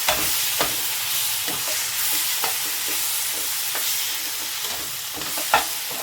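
Bitter gourd being stirred and roasted in hot oil in a pan, with a steady sizzle broken by repeated scraping clicks of the spatula, close and continuous throughout.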